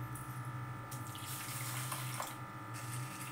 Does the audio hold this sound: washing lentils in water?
yes